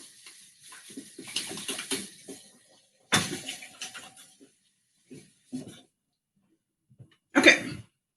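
Tap water splashes intermittently in a home kitchen sink during rinsing, arriving in short bursts separated by silent gaps, close and moderately loud.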